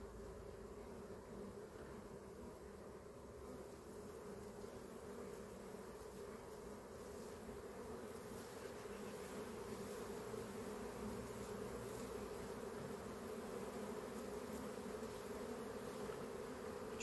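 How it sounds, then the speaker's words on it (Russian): Honey bees hum around a full hive in early September, a soft, steady, droning buzz that holds evenly throughout with no voices over it. "Пчелы продолжают работать"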